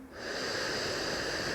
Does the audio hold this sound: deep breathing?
yes